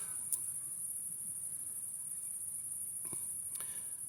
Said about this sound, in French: J'entends les grillons, d'accord